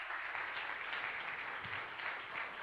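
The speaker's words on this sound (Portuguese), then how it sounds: "Vamos aplaudir o nome do Senhor Jesus?" A church congregation applauds at an evening service, a steady, dense wash of clapping from many hands that holds at an even level from start to finish with no talk.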